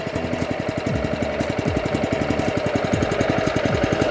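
A new California Trimmer Catalyst reel mower engine idles at low throttle while warming up, a steady, rapid, close-up chugging pulse with a mechanical clatter that holds evenly throughout.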